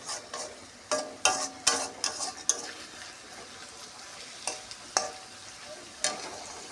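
Fish curry with onion cooks down in a pan as a utensil stirs and scrapes it, giving soft sizzling under sharp clinks and scrapes that come in scattered bursts, close and moderately loud.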